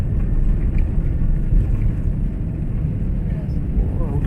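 An Emirates airliner takes off from the runway, heard from inside the cabin as a steady, heavy low rumble with constant engine roar throughout and no voices.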